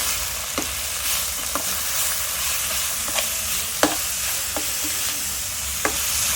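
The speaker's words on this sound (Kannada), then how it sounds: "ಗಸಗಸೆ ಮತ್ತು ತೆಂಗಿನಕಾಯಿ, ಒಣಕೊಬ್ಬರಿ, ಇದನ್ನು ಸ್ವಲ್ಪ ಲೈಟಾಗಿ ಫ್ರೈ ಮಾಡ್ಕೊಳ್ಳಿ." Poppy seeds, coconut and dry copra lightly frying in a pan make a steady soft sizzle, with occasional scraping stirs and small clicks of a spoon against the pan, no voices.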